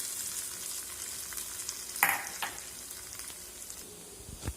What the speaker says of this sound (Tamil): இதை தாளித்து நம்ம கொட்டிட வேண்டியதுதான்.